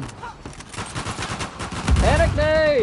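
Rapid, continuous automatic gunfire in a video game, dense crackling bursts over several seconds, with a voice shouting over the shots toward the end.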